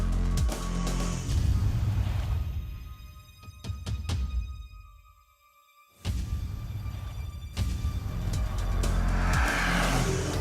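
An Aston Martin V12 with 400 kW growls through rising revs and fades almost to silence, then fires back in with a sudden, loud, deep burst that keeps rumbling close by.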